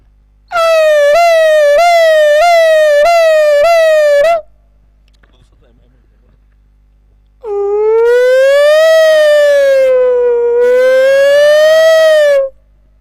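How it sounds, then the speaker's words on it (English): A loud siren blares at a cricket match, first in a rapid pulsing pattern of short wails, then after a brief pause in a long, sustained rising-and-falling tone. "Yes, so we have a siren here."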